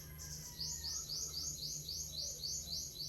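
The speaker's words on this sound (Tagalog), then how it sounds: "Tahimik. Ibon lang, ibon eh," Birds chirp in a steady run of repeated high, quick tweets, clear and fairly close, over a low constant hum, with no talking, in the countryside of Mindoro Oriental, Philippines.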